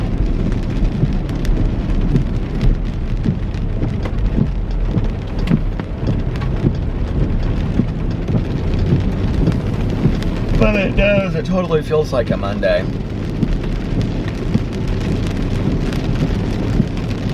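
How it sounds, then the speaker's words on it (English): Heavy rain pours steadily outdoors, a dense, constant wash close by, with a person talking over it throughout. "Rain is coming down pretty hard."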